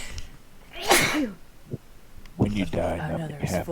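A single sharp, loud sneeze bursts out close by, followed by people talking.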